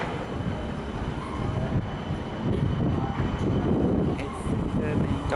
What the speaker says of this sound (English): So this is the realigned Midland Metro